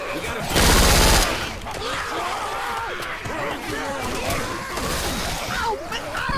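Gunfire in Left 4 Dead 2, with a loud sustained burst of automatic fire near the start followed by continued scattered shots and chaotic combat noise, with players talking over it.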